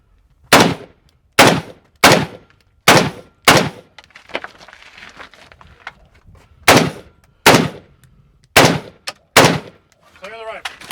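Rifle shots at a Desert Brutality shooting competition stage, around a dozen loud sharp cracks in uneven groups, with a brief pause in the middle and a faint ringing after the last shot.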